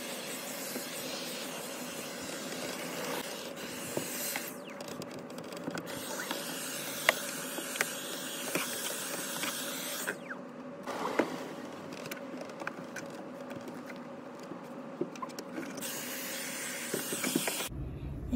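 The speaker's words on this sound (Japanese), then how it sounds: "一応バンクベッドの奥の方まで掃除機をかけてみました。" A vacuum cleaner runs inside a camper van, cleaning the far end of the over-cab bunk bed. It gives a continuous close hiss and whine with small shifts as the nozzle moves, then cuts off abruptly just before the end.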